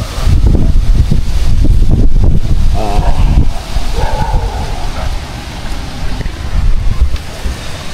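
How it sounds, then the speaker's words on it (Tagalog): Strong wind buffets the microphone in heavy gusts, roaring loudly at first then easing and surging again, with rustling noise underneath. "Pabugso-bugso ang hangin."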